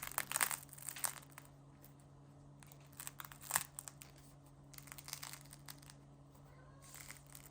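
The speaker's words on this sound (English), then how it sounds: "Listen to that crunch." Crusty sourdough bread crackles and crunches in bursts of dry crinkling, close up and fairly quiet, with short pauses between the squeezes.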